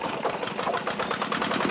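A small engine running on fuel made from coconut oil chugs with a rapid, even mechanical rattle, steady and moderately loud throughout the short stretch.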